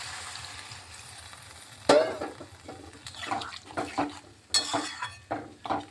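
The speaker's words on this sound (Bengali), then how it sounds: "একটু জল দিয়ে দিচ্ছি" Water poured into a pan of helencha greens cooking with spices, a sharp splash followed by sizzling and scraping utensil strokes on the pot, close and fairly quiet.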